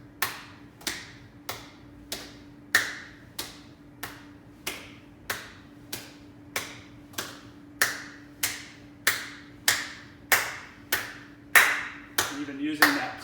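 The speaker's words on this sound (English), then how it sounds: "Clap in front of your waist, clap overhead." Sharp single hand claps repeat steadily about every 0.7 seconds during a jumping-jack shoulder mobility exercise, close and crisp over a low background hum.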